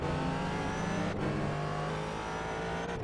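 A virtual 4GT race car in the iRacing sim at Spa-Francorchamps snarls loudly and steadily through the opening laps near La Source, its engine note holding high with a brief dip, close and alone without voices.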